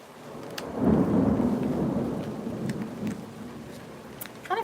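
A thunderstorm with a deep, rolling rumble of thunder that swells early and slowly fades beneath steady rain, with a few sharper crackles near the end; no voices.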